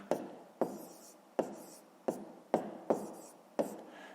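Pen writing a math solution by hand on paper, heard up close as a series of sharp taps and short scratchy strokes in a steady, unhurried rhythm, with no talking.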